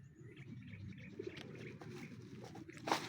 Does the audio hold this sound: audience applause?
no